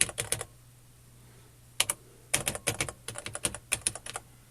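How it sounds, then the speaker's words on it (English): A TRS-80 Tandy Model 100/102 portable computer keyboard is typed on in quick bursts of crisp clicky keystrokes with short pauses between groups, close and fairly quiet over a faint steady hum. "I'll actually try the keyboard quickly."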